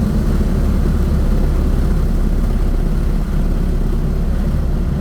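A fifth-generation Chevrolet Camaro SS under acceleration in a pull, a loud, dense, steady low engine roar heard from inside the car throughout.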